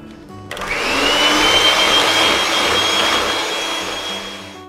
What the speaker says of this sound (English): I'm going to whisk it to thicken it even more